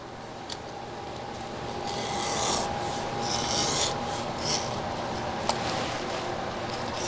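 Close, continuous scratchy rasping of 220 grit sandpaper rubbed over a flat wood surface in a workshop, with steady back-and-forth strokes swelling in the middle and no talk.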